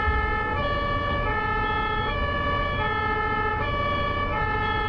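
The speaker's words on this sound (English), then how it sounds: "the German reaction to ambulance siren" An ambulance siren on a German highway wails loud and steady in a repeating two-tone pattern over constant road and traffic rumble, with no talking.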